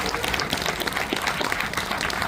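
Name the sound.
applause from a crowd at a members meeting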